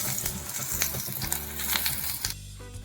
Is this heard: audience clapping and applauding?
no